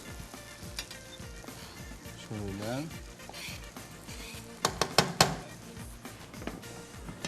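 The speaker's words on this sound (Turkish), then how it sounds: "Şöyle soğanımız yağımız da bir kavrulsun bakalım." Oil sizzles steadily as onions sauté in a pot, with a spoon scraping and clattering against the sides; a voice speaks briefly over the cooking.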